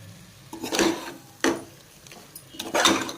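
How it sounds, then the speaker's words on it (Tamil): Three bursts of scraping and rubbing as a spoon stirs thick garam masala paste for chicken gravy in a pan, with short pauses between strokes. "இப்போ எல்லாமே நல்லா மிக்ஸ் பண்ணி விடலாம்."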